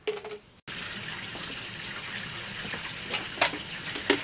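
Running tap water splashes and gushes steadily over brass rifle cartridge cases being rinsed of sizing lubricant in a sink, with a brief pause near the start and a few sharper splashes later.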